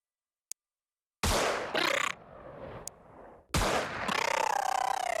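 Xenonauts tactical combat: a tiny click, then loud weapon bursts, two sharp reports close together, a pause, and another burst trailing into a lingering ringing tail, with no talk.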